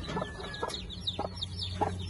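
A hen clucks in a few short, separate bursts over a low steady background hum, fairly close, with scattered higher chirps in between.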